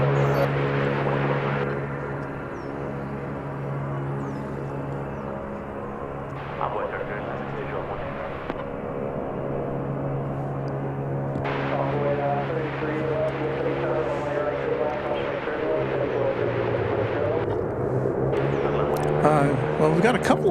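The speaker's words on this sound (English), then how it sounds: "There's apparently some propeller-driven aircraft doing a test or something over behind where the UPS planes are." A propeller-driven aircraft runs its engine on test at DFW Airport near the UPS cargo planes, a steady droning hum with a low fundamental throughout. Distant airport rumble and a person talking sit over it.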